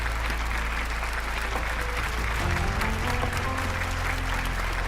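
An audience breaks into loud applause at a staged event, dense continuous clapping heard over a low, droning music bed that shifts partway through.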